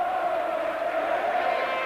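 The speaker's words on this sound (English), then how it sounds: "Crowd delighted." A rugby league crowd roars after a Workington Town win, a dense sustained cheer that stays steady and loud from start to finish.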